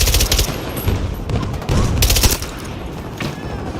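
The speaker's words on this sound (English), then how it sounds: "I think I just got sniped from the carrier" Gunfire in the shooter game Battlefield 2042, sniped from the carrier, with heavy overlapping shots and blasts booming in loud clusters, separated by brief lulls.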